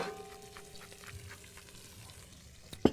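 Sliced onions seasoned with salt and fresh pepper frying in a hot pan, a low steady sizzle running throughout with a brief sharper clatter near the end.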